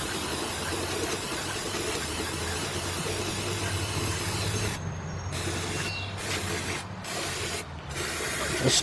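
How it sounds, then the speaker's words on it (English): Continuous hissing aerosol spray on 3.5-litre 2003 Nissan Maxima engine parts, loud and close, broken near the end into several short separate bursts. "You want to spray them real good."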